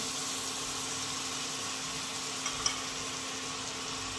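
Butter and oil sizzle steadily in a kadhai, a continuous bright crackling hiss with a faint low hum beneath and a couple of small pops.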